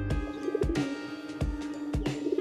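Giribaz pigeon chicks give soft, low repeated coos, close by, with a few sharp taps and knocks scattered between the calls.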